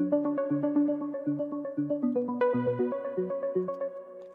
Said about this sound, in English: there's another layer to this arp, which is called Basic Bells, also an Ableton Live preset